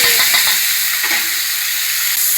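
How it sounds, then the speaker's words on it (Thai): Catfish sizzling in hot oil in a pan for a curry-paste stir-fry, a steady loud broadband frying hiss with a few soft stirring knocks near the start, no voices. "เจียวน้ำมันปลาดุกเพื่อจะมาผัดพริกแกงนะคะ"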